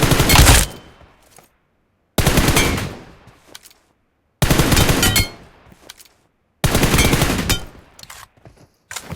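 M416 rifle in the mobile shooter BGMI firing four loud, close bursts of rapid automatic shots, each followed by a short decaying tail and brief silence.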